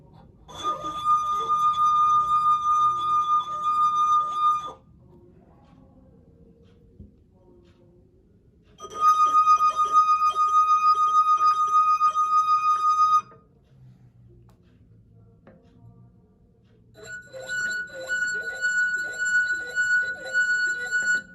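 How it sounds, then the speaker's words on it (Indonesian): Drinking glasses filled with water sing as a wet finger circles each rim, giving three sustained, pure ringing tones with steady overtones, each a different pitch, separated by brief quiet pauses. "Setelah itu, putar jari mengelilingi pinggiran gelas."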